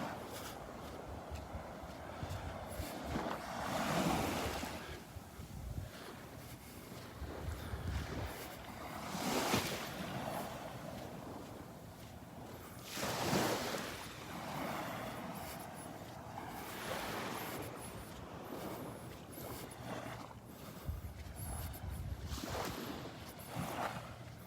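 Gentle water and wind along the calm, flat Gulf of Mexico at Vanderbilt Beach, a soft steady wash with slow swells of surf and breeze rumble, no voices.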